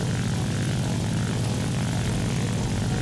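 Steady, droning propeller engine of a fighter plane in War Thunder, constant and close with a throbbing low hum and no pauses.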